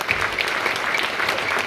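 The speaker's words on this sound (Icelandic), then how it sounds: "þá langar mig til þess að biðja ykkur að klappa einu sinni enn fyrir öllu þessu fólki" Audience applause at a school annual festival in Iceland, a steady dense wash of clapping from many hands filling the whole moment without pause.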